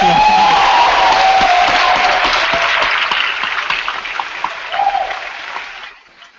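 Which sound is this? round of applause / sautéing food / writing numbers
round of applause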